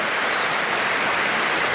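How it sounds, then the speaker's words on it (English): Steady crowd applause fills a rugby stadium in Toulouse at a Rugby World Cup match, a dense, continuous wash of clapping from a large distant crowd with no voices on top. "So applause from the crowd in Toulouse here"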